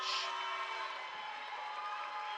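A crowd at a college men's basketball game cheers and applauds the five players on the floor late in the game, a sustained, fairly loud wash of clapping and shouting.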